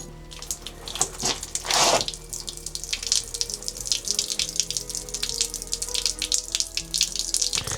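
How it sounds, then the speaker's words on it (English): Water runs steadily from a tap in a 1700s cottage with a bright, splashy hiss, broken by a brief louder gush early on; close by, no voices. "So, is that how you turn the water on?"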